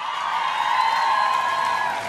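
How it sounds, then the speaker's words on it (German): Brief steady applause and cheering from an audience for Jody, a continuous dense wash of clapping and crowd noise at even loudness with no break. "Ein bisschen Applaus für Jody vielleicht mal."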